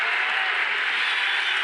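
Basketball crowd in an arena applauding steadily, a dense, even wash of clapping that holds at a constant loud level.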